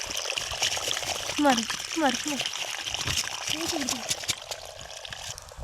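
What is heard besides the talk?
water gushing like a waterfall at a dam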